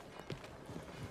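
Horse hooves in the video game Red Dead Redemption 2: a few faint, quiet hoofbeats thud unevenly across a short stretch under a low game-audio bed.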